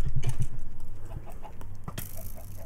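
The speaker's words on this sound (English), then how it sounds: "Chicken." A chicken in a Minecraft-style video game clucks in a quick run of short, close bursts, followed by a few softer game sounds, with no talking.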